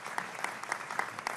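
Applause from the United Nations assembly greets the arriving K-pop group BTS: a moderate, fairly distant patter of clapping with a few sharper claps.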